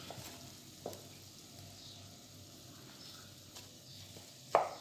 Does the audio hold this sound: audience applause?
no